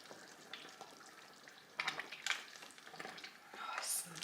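Tomato soup gets stirred in a pot, with a soft bubbling simmer and scraping spoon strokes that grow louder and busier toward the end, fairly quiet overall.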